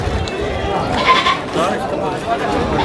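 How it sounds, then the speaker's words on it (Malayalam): Goats bleat repeatedly at the crowded Chattiparamba goat market during a festival rush. Their calls are close and overlap with constant people talking nearby. "നമ്മള് ഇവിടെ ഇഷ്ടം പോലെ ആടും ഉണ്ട്"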